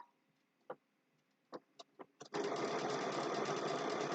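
A domestic sewing machine runs a blanket stitch on a small snowman-face mug rug, starting with a few scattered clicks and taps, then breaking into a loud, steady, fast whirring stitch that carries on without pause.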